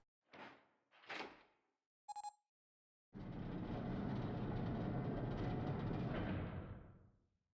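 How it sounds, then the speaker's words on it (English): Heavy door in the video game Zero Escape 999 slides open with a long, loud rumbling grind after a few short knocks and a metallic chime, then fades out. "The door opened."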